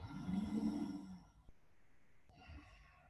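Slow, deep breathing through a constricted throat during a yoga class, a rough snore-like inhale-exhale in the first second, then quieter breaths trailing off, close and without talk.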